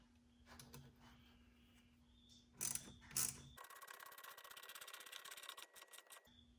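Ratchet wrench clicking rapidly while tightening a bolt on a Jeep Wrangler thermostat housing, preceded by a couple of metallic knocks, close and fairly quiet.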